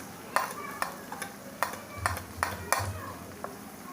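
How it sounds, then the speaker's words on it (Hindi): Chicken keema being fried and stirred in a pan: a soft background sizzle broken by a series of sharp spoon scrapes and clacks against the pan at an uneven rhythm, fairly quiet and close. "चिकन का कीमा मैंने लिया है ना, इसलिए मैं उसे भून के बना रही हूँ।"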